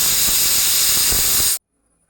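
Pressure cooker venting steam while cooking olan, a loud continuous hiss that cuts off abruptly into near silence after about one and a half seconds.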